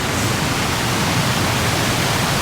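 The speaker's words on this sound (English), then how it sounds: "I don't even know if y'all can hear me with all this glorious water in the background." A roaring waterfall on a hike fills the scene with a constant, loud broadband rush of falling water, close and unbroken throughout.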